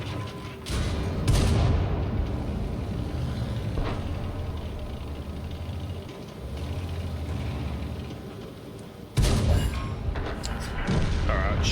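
Tank cannon fire in World of Tanks: heavy booming shots land near the start and again around the nine-second mark, with engine rumble and softer battle thumps in between.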